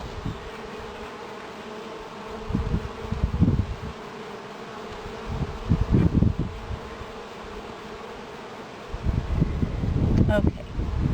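Russian honey bees buzz around an opened top bar hive during spring management, a steady close hum with rustling and handling noises rising in bursts. Voices are faintly present.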